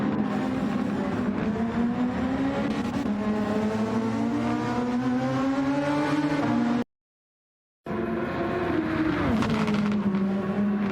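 Simulated F1 race cars at the Spielberg circuit scream past in a racing video game, a continuous loud high-revving engine whine that rises and shifts pitch with gear changes, cut by a second of silence before another car roars through.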